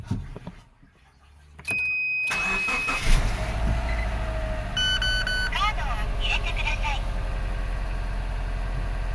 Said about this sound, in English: Let's start this thing and see how it runs.